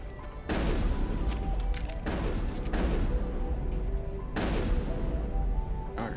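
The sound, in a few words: cannon firing in the video game Mass Effect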